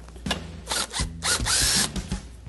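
Impact gun breaking loose the nut at the bottom of a bicycle fork clamped in soft aluminum vise jaws, several short close bursts of whirring and hammering separated by pauses.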